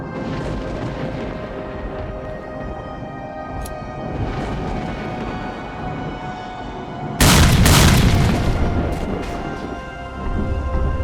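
A grenade goes off in STALKER Call of Pripyat: a sudden, loud, close blast partway through that rolls out into a rumbling tail, following quieter ambient game sounds.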